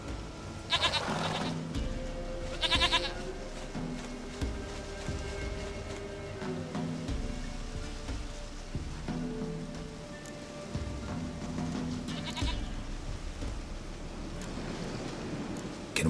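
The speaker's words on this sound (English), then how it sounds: "Goat of mine, dearest, sweetest goat." A goat bleats a few times in the video game The Witcher 3: Wild Hunt, short wavering calls standing out over soft pattering rain and faint background sound, with no talk over them.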